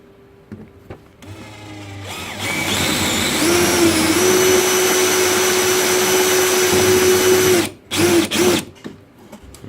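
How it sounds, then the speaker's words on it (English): A power drill whines at high speed for several seconds, drilling through metal, pitch steady under load, then stops and gives a few short bursts. "Trying to figure out a way to not drill through my workbench"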